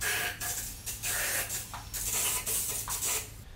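Close, hissing bursts of aerosol lubricant sprayed onto stuck LS engine lifters, several short squirts in quick succession with brief gaps between them.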